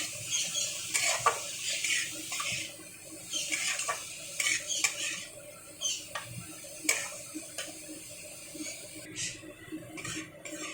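Radish greens stirred in a pan, a utensil scraping and tapping against the metal in irregular clicks over a soft background hiss, close and fairly quiet, no talk.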